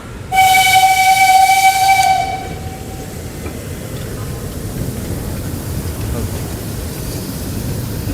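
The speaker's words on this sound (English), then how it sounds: "What is that train?" A loud, sustained train horn blares for about two seconds in Surakarta, Indonesia, then cuts off, leaving a low rumble of passing rail traffic and street noise.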